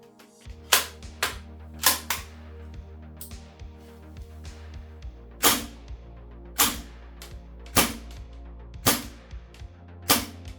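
Kingdom Technology KG-9 airsoft gun firing BBs: about a dozen sharp, snappy cracks, single and in quick pairs, loud and close, spaced irregularly over a low background hum.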